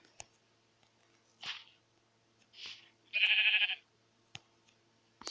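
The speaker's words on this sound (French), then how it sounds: "J'entends le mouton." A blocky, game-like sheep bleat sounds once near the middle of a quiet survival-game scene, between soft synthetic thumps and scattered clicks.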